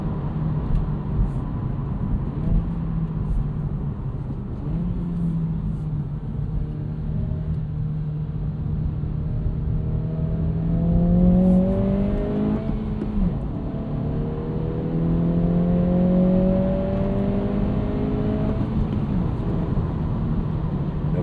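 A 2026 Acura Integra A-Spec with a helical limited-slip differential pulls out of corners, its engine droning steadily and rising in pitch through gear changes, loud and close inside the cabin, with no talk.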